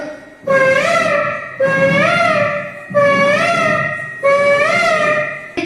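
A voice imitates a cuckoo call: four loud, close, rising two-part calls repeated at a steady pace with short pauses between.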